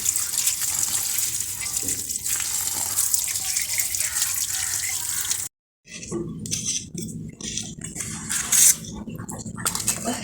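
Leafy greens washed under a running tap, a steady gush of water with splashing and handling, broken by a short silent gap before the flow resumes.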